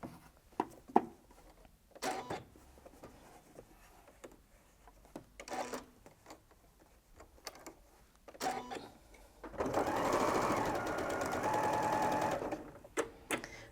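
A domestic sewing machine stitches quilt pieces for a scrap quilt: a steady mechanical whirr of about three seconds near the end, preceded by scattered handling knocks and quiet rustling.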